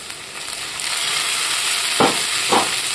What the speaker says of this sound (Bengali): এবার মশলাটা আমি দিয়ে দিচ্ছি। পেঁয়াজটা আমার ভাজা হয়ে গেছে।